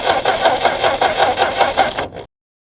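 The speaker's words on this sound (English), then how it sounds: "see if it'll turn over by the starter now" An old Jeep engine cranking over on its starter after more than 25 years abandoned, a rhythmic chugging churn of about a dozen even beats, close and loud, that stops suddenly without firing.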